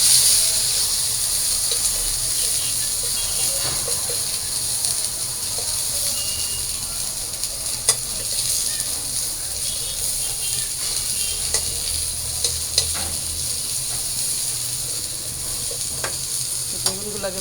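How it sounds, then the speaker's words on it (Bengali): Eggplant pieces frying in oil give a loud, steady sizzle and hiss throughout, broken by small pops and crackles and a few light scraping stirs, with no talk. "তো তেলের মধ্যে আমি এই যে বেগুনগুলো শুতে ভাজা নেই"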